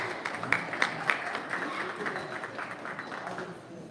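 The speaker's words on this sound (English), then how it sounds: "Let's give these kids a round of applause" A modest round of applause from spectators at a stock show, soft and somewhat distant, with scattered louder claps early before it thins out.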